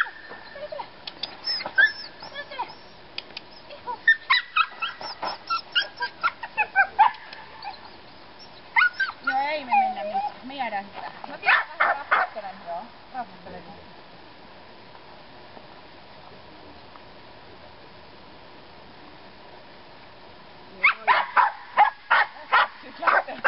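A mudi dog at a temperament assessment barks repeatedly in loud, close bursts, with whimpering and whining between the barks, a quieter stretch in the middle, and another run of barking at the end.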